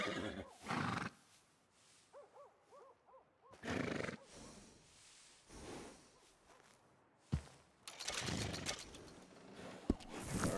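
Horse in Red Dead Redemption 2 whinnies with a clear, wavering neigh mid-clip, framed by snorts, hoof clops and swishing game sounds.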